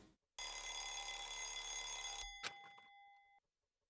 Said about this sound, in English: Opened my eyes at the sound of the alarm.